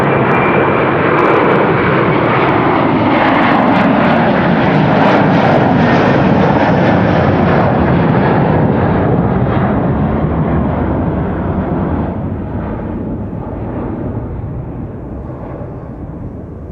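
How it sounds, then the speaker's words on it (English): Delta Airbus A330 bound for Seattle taking off at Amsterdam Schiphol, a loud sustained jet engine roar holding steady then slowly fading as it climbs away, with no voices. "Also cool is this Delta A330 to Seattle"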